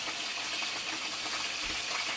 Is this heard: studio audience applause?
no